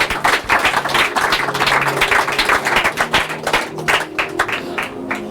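A church congregation applauds and cheers for Jesus in a steady, lively wave of clapping that fills the room and continues without a break.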